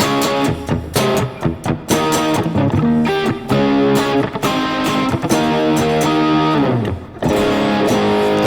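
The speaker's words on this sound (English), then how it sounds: "It almost tames the distortion a little bit when you turn the tone knob down." A distorted electric guitar with its tone knob turned all the way down plays chords and riffs in bursts, loud and close, with a slightly softened edge and brief pauses between phrases.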